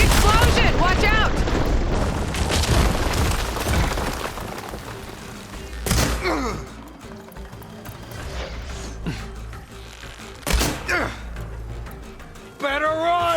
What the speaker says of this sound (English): Hey, big explosion! Watch out!